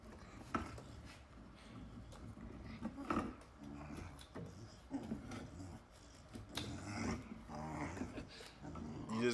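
A dog growls and whimpers in a house amid clattering and commotion, the sounds close and fairly loud, with a voice briefly audible in the mix.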